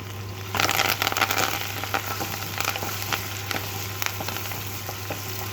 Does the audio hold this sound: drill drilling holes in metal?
no